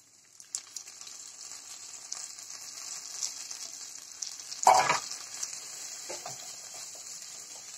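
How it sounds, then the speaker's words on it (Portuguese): Onion and green beans sauté in a pan with a steady, soft sizzling hiss, broken by one louder stir and a few light scrapes and clinks near the middle. "agora que a cebola já está refogada, a vagem já está cozida"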